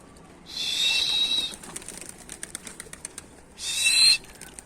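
A burst of loud wing flapping as a pigeon takes off, a stretch of quieter fluttering, then another brief flurry of wingbeats close by.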